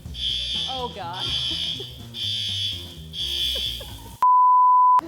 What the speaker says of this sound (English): Timer's gone off.